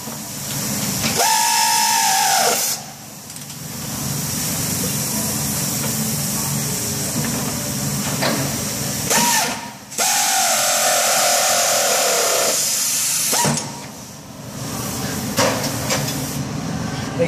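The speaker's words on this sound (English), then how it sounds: "We're going to go back to our 18mm on our air ratchet." An air ratchet fitted with an 18mm socket runs on the upper control arm bolts of a 2011 Ram, giving loud hissing bursts of pneumatic air with short pauses between spins, close to the microphone.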